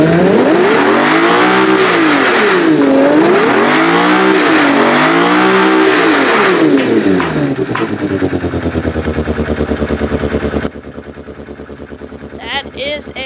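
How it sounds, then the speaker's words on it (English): Engine revving loudly and continuously in BeamNG.drive, a customised car from Automation with an enlarged engine, the pitch sweeping up and down in repeated waves before settling into a steady drone and cutting off. "I'm gonna let you guys listen to this engine now"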